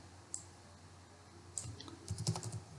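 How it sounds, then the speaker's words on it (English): Quiet scattered keystrokes on a computer keyboard, a couple of isolated clicks early on, then a brief faster burst of typing near the end, with no voices. "I will type here this dot roll"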